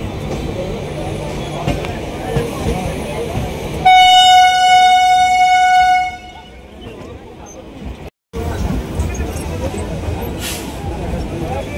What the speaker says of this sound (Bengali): পাক্কা 10টার সময় ট্রেন ঢুকে।